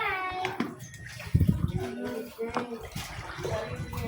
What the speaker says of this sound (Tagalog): Grabe yung baha dito sa amin.